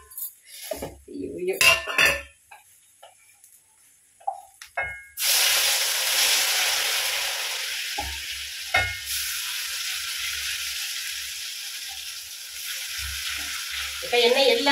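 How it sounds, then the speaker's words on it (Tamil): Raw plantain slices frying in hot oil: a few clinks of utensils and pan handling come first, then a loud steady hiss of sizzling oil sets in and holds, with occasional knocks against the pan. "இப்படி வாழைக்காய் பொரிங்க"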